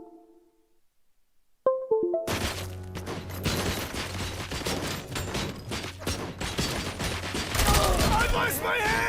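Video game gunfire in RoboCop Rogue City crackles in dense rapid volleys, loud and sustained after a quiet start, with bursts of automatic fire and clattering impacts piling up over several seconds.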